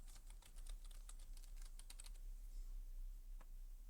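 Rapid keystrokes on a computer keyboard as a search term is typed into a WordPress plugin search box, quiet and close, with a dense run of taps, a short pause, then one last isolated tap.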